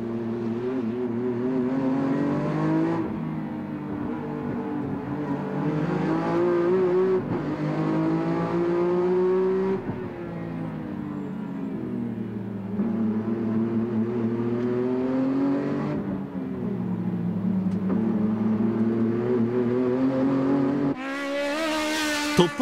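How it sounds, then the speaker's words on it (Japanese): Nissan Skyline GT-R Group A race cars roar continuously around a Japanese circuit, engines rising and falling through gear changes as they chase closely, loud and sustained throughout, with a sharp burst near the end. "トップ争いはといえば、日本のレースは久々の登場となるオロフソンの追撃が焦点となり、じりじりと HKS 萩原に迫っていく"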